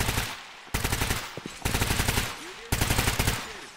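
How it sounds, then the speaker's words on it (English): Rapid automatic gunfire in the video game Stalker GAMMA, set around Pripyat, comes in loud bursts of many shots with short pauses between them and continues through most of the stretch. "Not sure where they're shooting from"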